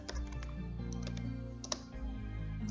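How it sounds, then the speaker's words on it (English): Keys clatter on a computer keyboard in a short, fast burst of clicks, close and faint over a low steady hum, entering text in an EverQuest game. "we're going to type in"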